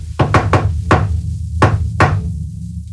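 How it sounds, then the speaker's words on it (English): Knocking on a door indoors: a quick double knock, a single knock, then another double knock, each rap crisp and close with short pauses between. "There's a knock at the door."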